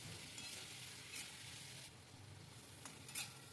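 Spices with ginger-garlic paste being stirred and fried in a pan for a banana-flower ghonto with prawns, a steady soft sizzle with scraping stir strokes, fairly quiet and with no talk.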